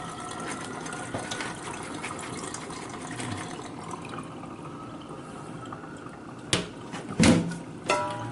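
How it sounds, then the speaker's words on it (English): Sliced cucumbers for a sour cream side dish are shaken to drain off excess water, giving a steady wet rustle with a few sharper splashy bursts near the end. "gonna shake all that excess water off"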